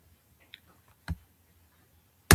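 A computer Enter key pressed on a keyboard, giving a few soft isolated clicks, one firm tap near the middle and a louder sharp click at the end, in a quiet room.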